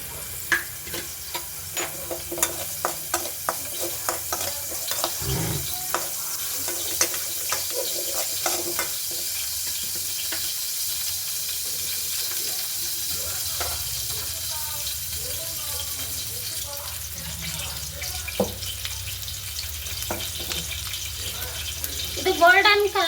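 Onion and green chili fry in hot oil with a steady soft sizzle, broken by occasional stirring scrapes and a brief splash of running water, while someone talks now and then.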